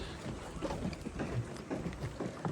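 Boat ride across water toward a mangrove forest near Bharatang Island in the Andamans: a steady engine and hull rumble with wind buffeting the microphone and rhythmic low thumps, continuous and close, with no talk.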